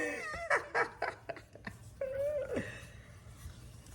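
Household dog in a kitchen giving a string of short, high whimpers and yips close by, then a drawn-out whine fading into quiet background noise.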